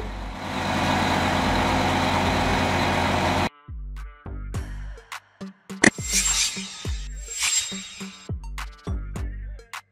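A crane's engine runs with a loud, steady mechanical drone for a few seconds, then cuts abruptly to quieter, scattered clanks and tones.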